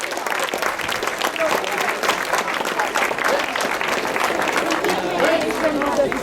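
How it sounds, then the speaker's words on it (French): Audience applause for a silver medalist from Poland at a youth bouldering climbing cup ceremony in L'Argentière, a steady wash of many hands clapping throughout, crowd noise underneath with some voices. "I would like a big applause for Katarzyna"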